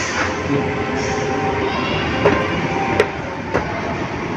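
A mall escalator runs with a steady mechanical hum and rumble, with a few faint clicks and taps over the continuous drone and no voices.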